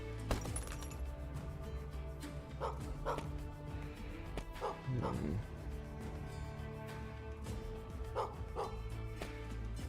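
Short barks from a dog in the video game Gestalt: Steam and Cinder, repeated in small pairs over steady game music and ambient hum.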